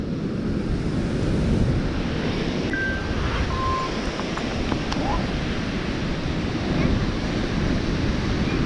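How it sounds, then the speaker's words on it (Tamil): Sea waves crash onto Unniyal beach at Tirur, Kerala, producing a steady, dense roar of surf that stays loud and even throughout. "அலை அடிக்கிற சத்தம் பாருங்க."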